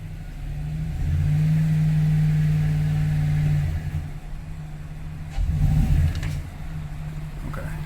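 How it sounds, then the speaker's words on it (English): A car engine runs at a steady idle, then revs up to a higher held drone as the throttle opens. It drops back, then surges again in a second shorter rev, loud and close. "So I want to increase the throttle."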